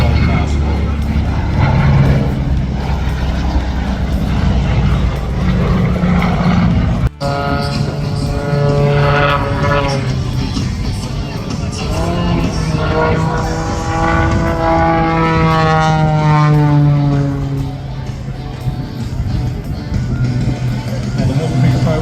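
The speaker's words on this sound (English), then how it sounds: "it is powered by 400 horsepower engine, making it now one of the highest performing aircraft" A Mercury Pro custom-built aerobatic aircraft, weighing about 400 kilograms and powered by a 400 horsepower engine, flies past at an air show with a loud, sustained engine roar rising and falling in pitch as it passes.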